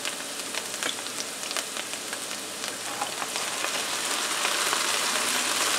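Garlic and fish sauce sizzle steadily in a hot pan for a keto red Thai coconut shrimp curry, a continuous close crackling hiss that swells slightly toward the end, with no talking.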